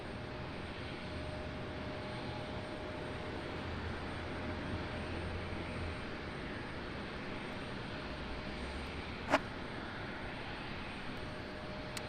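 A Southwest airliner departs Raleigh-Durham airport, heard as a faint, distant, steady broadband roar of engines across the whole stretch, with a brief click near the end and no talk.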